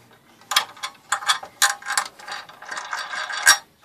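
Close ratcheting clicks and grinding twists as a Swiss Army knife's built-in Phillips screwdriver tightens a screw into a 39-inch Emerson LED TV, in several short irregular bursts.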